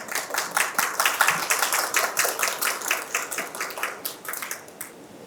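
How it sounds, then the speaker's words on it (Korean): Audience applause for a keynote speaker, a former head of the Independence Hall of Korea, at an academic conference: a dense stretch of clapping at steady loudness that thins toward the end. "뜨거운 박수 부탁드립니다"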